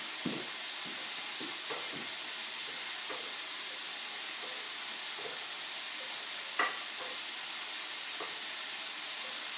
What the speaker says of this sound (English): So, I'm going to give this a bit of a stir.